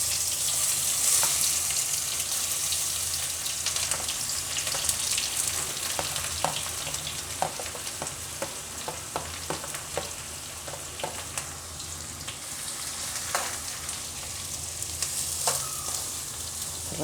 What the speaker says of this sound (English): oil is getting heated, and to this you add some jeera. I'm adding 1 spoon of jeera, and along with that I'm adding these onions